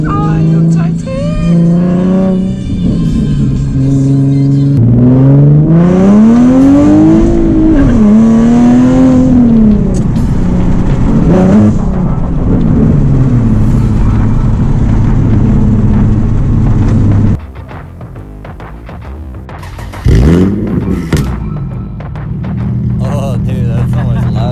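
A Nissan 370Z with a Tomei titanium exhaust revs loudly and close, its engine note rising and falling through several sweeps before cutting off, then a sharp burst and a lower idle, with talk over it.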